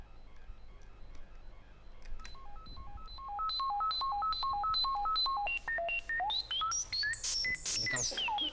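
A modular synthesizer square-wave oscillator is patched into its own FM input, first giving rapid stepping bleeps in a quick pattern, then turning harsh, noisy and swooping, fairly close with no voices.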